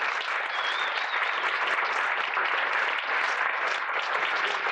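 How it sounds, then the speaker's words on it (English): A crowd at a polka band's 30th anniversary dance gives a sustained round of applause, thick and even throughout, fairly close and unbroken by any voices. "So let's give them a big round of applause."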